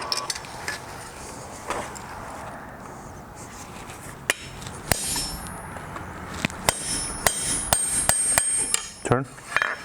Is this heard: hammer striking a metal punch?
yes